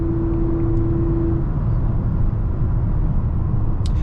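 Turbocharged inline-six of a 2024 Mazda CX-90 pulling in sport mode while holding a gear, a steady, loud cabin-level engine drone and road rumble with a brief tonal whine early on.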